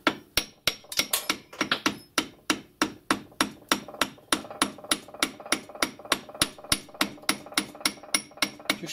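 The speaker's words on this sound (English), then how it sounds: "So I'm using my copper dolly" Steady, even hammer blows strike a copper dolly to drive the pulley off a Myford ML7 lathe, roughly three sharp, ringing metallic taps per second, close and loud, with no talking.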